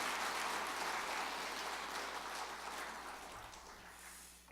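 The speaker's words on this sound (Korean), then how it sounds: "우리 다 박수 한번 해주세요" A church congregation applauding during a Sunday service, a steady wash of clapping that holds for several seconds and then gradually fades.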